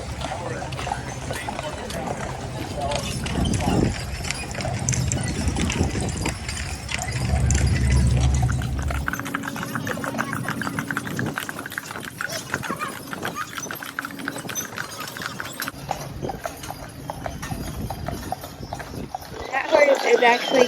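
Horse hooves clip-clop along a street on car-free Mackinac Island, a steady rhythmic clatter at moderate distance, mixed with outdoor crowd sounds and a person talking over it.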